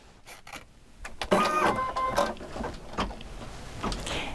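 A ScanNCut machine stitches an applique heart outline, its motor whirring steadily with a rising mechanical hum and faint clicks, close and moderately loud with no talking.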